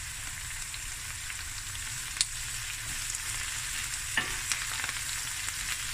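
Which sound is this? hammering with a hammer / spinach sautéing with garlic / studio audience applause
spinach sautéing with garlic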